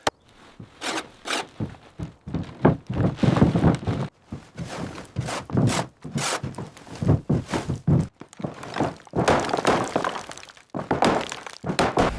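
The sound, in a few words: hitting a stuck wooden beam in a cabin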